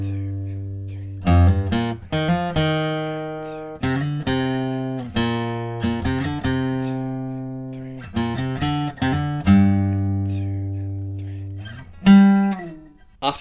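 Electric guitar playing the second chorus riff of a song, loud and alone, with slow sustained chord hits and sliding bass notes in a steady, heavy rhythm.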